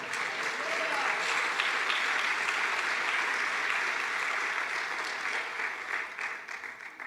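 A church congregation applauds the creator God, a steady, full wash of many hands clapping that carries evenly throughout and fades slightly near the end.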